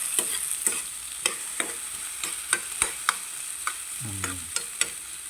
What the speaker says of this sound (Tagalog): Tamang half cook lang ang kamatis at ang sibuyas.